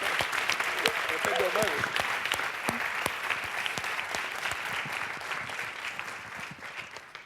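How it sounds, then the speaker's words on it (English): Sustained audience applause at a team competition final event, dense and steady throughout, with faint voices mixed in underneath. "Maybe a bit of applause to start off."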